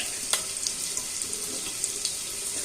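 Garlic sautéing in hot oil in a pan for Marathi katachi aamti, a steady close hiss of frying with small crackling pops throughout, no talking.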